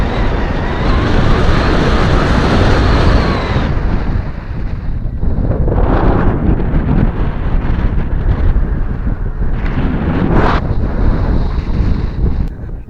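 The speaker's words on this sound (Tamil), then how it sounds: "தள்ளுது கேமராவே. நல்லா அடிக்குது, நல்லா காற்று." Strong wind buffets the microphone in a loud, continuous roar that briefly eases before gusting hard again.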